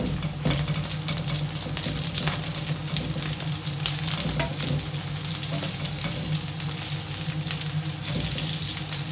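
Padron peppers fry in a covered pan, a steady dense sizzle with sharp spitting pops scattered throughout, loud and close, without any voices.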